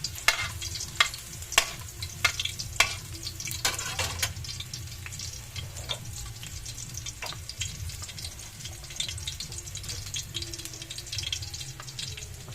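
Garlic frying in a pan for a Filipino coconut-milk tuna dish, with a steady low sizzle under repeated sharp clicks and scrapes of stirring, close and fairly quiet with no talking.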